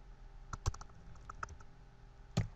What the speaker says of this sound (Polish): Klikam zamień wszystko.